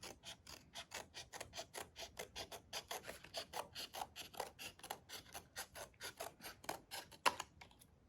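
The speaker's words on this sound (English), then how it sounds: "and then we're just gonna trim it up" Scissors trim the edge of a paper plate apple craft in a quick regular series of rasping snips, about four a second, close but faint with no voices.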